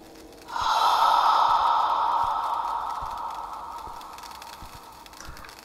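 A long, close, loud breath from a creepy video game, a hoarse inhale or sigh that swells suddenly and slowly fades over several seconds.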